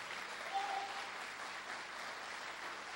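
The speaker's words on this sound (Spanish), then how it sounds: "Aplaudile" A church congregation applauds, producing a soft, even wash of distant clapping that carries on without a break, with a brief voice rising partway through.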